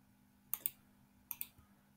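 A computer mouse clicks in two quick double-click pairs, crisp and close against a faint background hum.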